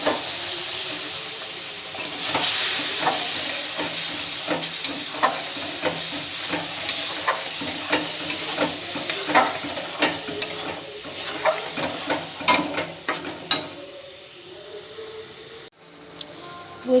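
A ginger, tomato and green chili paste fries loudly in a pan for aloo dum, a continuous sizzle broken by repeated spatula scrapes and knocks that grow busier before the hiss suddenly drops away.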